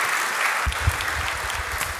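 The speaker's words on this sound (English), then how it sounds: "Clap for her." Audience at a youth festival talk gives a short burst of clapping, a dense patter of many hands close by for about two seconds.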